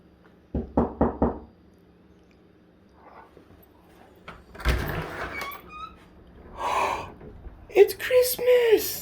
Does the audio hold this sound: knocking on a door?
yes